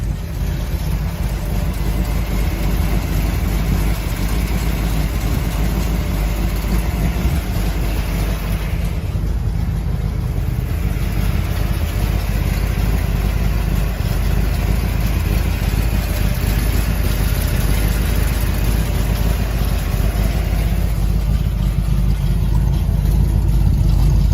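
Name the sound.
1962 Chevrolet Corvette engine running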